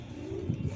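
A pet pigeon coos softly, one low, hollow, rolling call held briefly close by in a quiet setting, with slight breathy pulses near its end.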